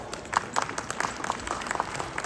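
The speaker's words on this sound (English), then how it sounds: "I think it needs a great round of applause." Moderate audience applause at a literature festival celebrating women artists from India, a steady bed of clapping with distinct individual claps standing out in an uneven rhythm.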